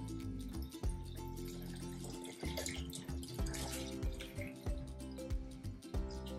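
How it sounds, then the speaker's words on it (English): Water is poured steadily into the reservoir of a potted Stromanthe plant, a continuous close splashing and trickling stream with small bubbling pulses. "the red stick will rise to the maximum mark, then I know the reservoir is full and I can stop pouring water."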